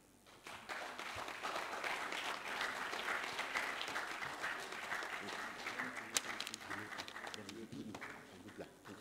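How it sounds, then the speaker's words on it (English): A live audience in Nigeria breaks into sustained applause for a speaker after a policy talk, a steady wash of many hands clapping at moderate distance, with some voices murmuring underneath. "Can we give him a sound round of applause, please?"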